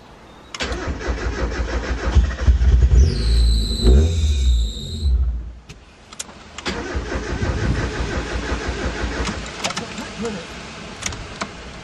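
A Mazda MX-5 Miata engine cranks, coughs and catches, then revs loudly before settling into a rough idle with occasional squeaks and knocks, close to the car.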